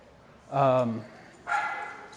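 A puppy barks twice during a dog training session, a sharp close bark followed by a softer second one after a short pause.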